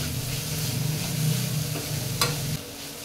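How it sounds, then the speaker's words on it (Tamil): Powdered soya sautéed and stirred in a pan for soya chutney, giving a steady close sizzle with soft scraping stir strokes throughout and a brief sharper scrape near the end. "அதையும் வந்து நல்லா கொஞ்சம் வதக்கணும்"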